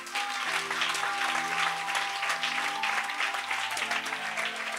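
A church congregation applauding, dense sustained clapping from many hands filling the room, loud and steady throughout with a held musical tone underneath.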